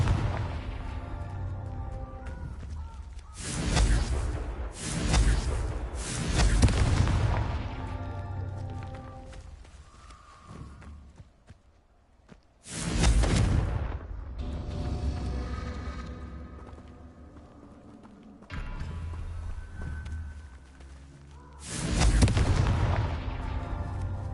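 Confringo fire blast spells in Hogwarts Legacy going off as loud, booming explosions in separate clusters, with quieter gaps between them.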